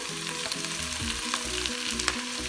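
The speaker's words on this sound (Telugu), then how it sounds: "ఇప్పుడు టమాటోస్ వేస్తున్నాను నేను" Tomatoes frying in the pan of a Geek Robocook electric cooker: a steady, moderately quiet sizzle with occasional stirring taps, over a low mechanical hum from the appliance.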